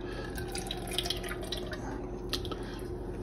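Roast chicken juices pour into a cheap plastic fat separator with a soft continuous trickle and scattered drips, close by over a steady kitchen hum.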